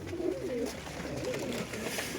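Pigeons coo steadily in a breeding coop, low soft throaty calls layered over a constant room hum, with no speech.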